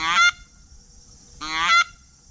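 Two short, sharp honking notes blown on a goose hunting call, each a clipped reedy blast followed by a pause, loud and close with no voices.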